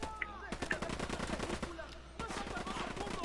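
Rapid automatic gunfire in Ghost Recon Wildlands, dense rattling bursts with a short pause before the shooting resumes, with faint voices underneath.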